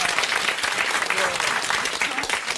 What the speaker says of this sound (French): Et vous allez l'applaudir